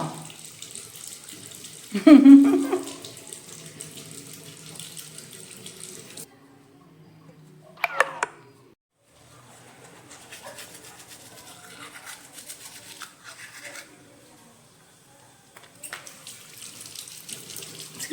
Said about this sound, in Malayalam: കണ്ണാടി നോക്കി സുന്ദരം കഴുകുകയാണോ